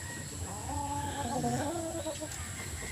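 Sweater-breed gamecock roosters cluck and murmur in a steady, close run of calls over a constant background hum, with no talking.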